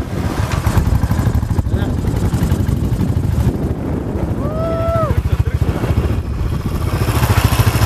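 A motorcycle engine drones steadily and loudly on a trip to BR Hills, a constant low rumble with voices talking over it.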